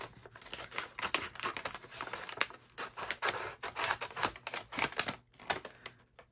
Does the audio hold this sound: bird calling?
no